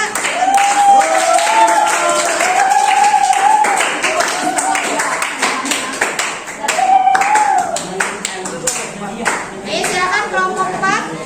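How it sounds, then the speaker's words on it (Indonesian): Classroom clapping for a student group, sharp rapid hand claps from children filling the room over about eleven seconds, with a voice and other talk mixed in. "Oke, beri tepuk tangan dong buat kelompok 2."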